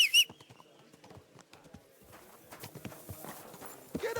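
Horse hooves clip-clop steadily in the medieval game Kingdom Come: Deliverance II, light rhythmic footfalls at moderate distance, with a brief bird chirp at the start.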